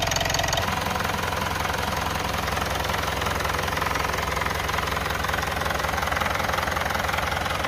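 A car engine rattles on startup with a steady, loud mechanical rattle and knocking, continuous and close, with no talking.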